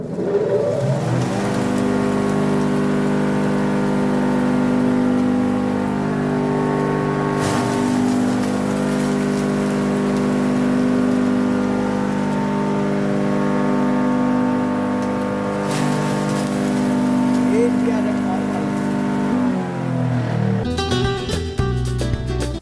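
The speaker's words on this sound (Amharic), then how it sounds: "ሳር አሁን እንፈጫለን።" A grass grinding mill for livestock feed runs steadily with a loud, continuous mechanical drone and hum close by, then cuts off near the end.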